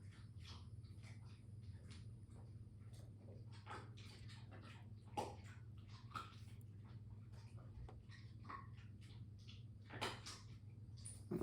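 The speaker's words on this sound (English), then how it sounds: "That is the dog deciding to lay underneath my chair and chew on his bone." Faint, intermittent gnawing and crunching from a nearby dog working at something, with small scrapes over a steady low hum.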